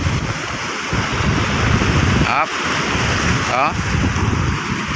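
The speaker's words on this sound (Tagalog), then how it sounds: "tsaka yung yung mga talsik ng alon ng dagat." Steady roar of sea surf splashing and wind noise across the whole stretch, with a brief voice and a couple of short tonal sweeps rising over it.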